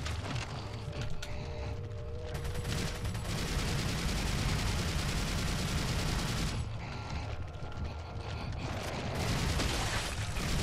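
Rapid gunfire rings out in Resident Evil 4 HD, dense bursts of shots packed into sustained volleys with a short lull in the middle, loud and close with a mechanical clatter.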